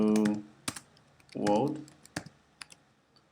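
Computer keyboard typing as hello world HTML code is entered, a few scattered key clicks between stretches of someone talking.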